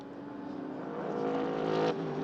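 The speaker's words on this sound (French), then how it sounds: "On va surveiller le chrono pour la Ferrari 488 du team SRNR." A Ferrari 488 race car drives on a circuit during a sprint race, its engine a moderately faint, rising whine that swells toward the end, with no talking.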